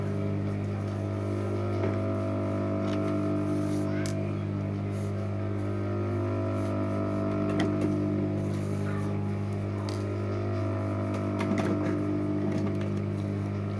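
A sewing machine stitches the stacked fabric pieces of a small coin purse, giving a steady, continuous mechanical hum with light ticking, close up and alone without talk.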